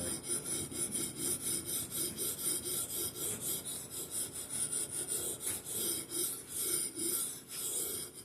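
Norton JUM3 Crystalon sharpening stone drawn lightly along a Husqvarna hatchet edge, a steady hissing rasp repeating in quick even strokes for several seconds, close and continuous with no voice.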